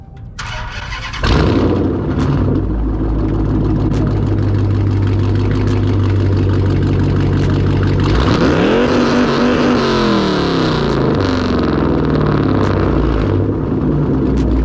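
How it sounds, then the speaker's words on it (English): A catless Dodge Challenger starts with a loud burst, settles into a deep rumbling idle, then revs up and falls back, heavy exhaust drone filling the whole stretch up close, no talk. "Now y'all know I could not do this video without giving y'all a rev."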